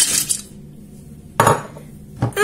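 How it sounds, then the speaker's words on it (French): Peanuts are put into the bowl of a food processor, heard as a clatter of pieces landing at the start and then two sharp clinks of hard material against the bowl, close and loud against a quiet background. "on va prendre nos cacahuètes et on va les mettre dans le robot"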